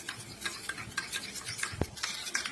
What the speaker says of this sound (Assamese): এতিয়া কণীটো মই ভালদৰে ফেটি লৈছোঁ।